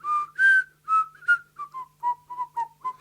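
A person whistles a short melody of about ten clear, separate notes, shifting pitch between them, close and alone against near silence.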